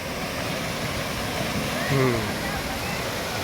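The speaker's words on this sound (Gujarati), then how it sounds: "જો આ વોટરફોલ છે, એક માંથી ચાલુ છે, એક અહીંયાથી ચાલુ છે." Khad Khambhadiya waterfall near Jamnagar roars in a loud, steady, dense wash of falling water heard up close. A brief faint voice rises above it around the middle.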